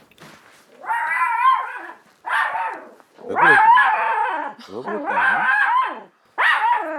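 A dog in a home barks repeatedly and loudly at close range, with short harsh bursts in an uneven rhythm and brief gaps between them. A person speaks briefly at the start.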